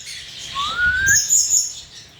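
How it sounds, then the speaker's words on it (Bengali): Grey parrots give a short, loud rising whistle followed by quick chirps and squawky calls, close by and clear. "ওর দীর্ঘদিনের সাধনা এই গ্রে প্যারট দুইটা।"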